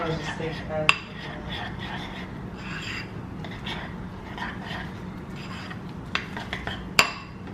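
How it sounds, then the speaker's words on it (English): Spoon scraping and clinking inside a bowl as protein pudding is stirred, a steady soft rasp with a few sharp clinks against the rim, close and fairly quiet. "Let's get to stirring."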